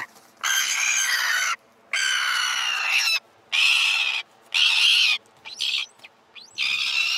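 Seabird caught on a cliff side in Cape Verde for tagging, calling in loud, harsh, drawn-out screeches in repeated bursts with short pauses, close and alone.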